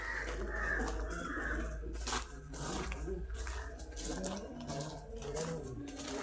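A crow caws over a noisy wash of running water and background clatter, the calls rough and moderately distant.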